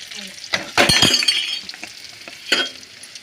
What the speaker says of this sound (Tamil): அதேமாரி கருப்பு உடச்ச உளுந்து போட்டுக்கலாம்